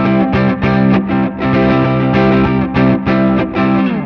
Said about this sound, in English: it's kind of like a broken up, slightly broken up amp sound